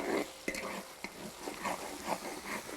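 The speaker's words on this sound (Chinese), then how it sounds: "放一勺郫县豆瓣酱，炒出红油来" Chili bean paste and chili powder stir-fried in a hot wok with aromatics and dried chilies, giving a steady oily sizzle broken by sharp scrapes and clacks of a spatula, close and moderately loud with no talking.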